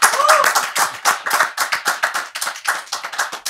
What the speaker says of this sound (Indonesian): Tepuk tangan buat Ebit Gadi.